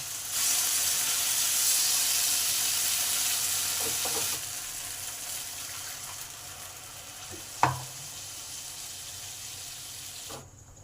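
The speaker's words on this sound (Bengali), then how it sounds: "এই সময় মিক্সি দিয়ে খানিকটা জল দিয়ে দিলাম।" Water poured into a frying spice paste gives a loud, broad hiss and sizzle that eases off partway through, then a single sharp clink and a few soft knocks.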